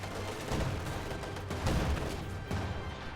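Guards fire rifles in a real-time strategy video game, a dense run of overlapping gunshots and distant battle booms with no pause across the stretch.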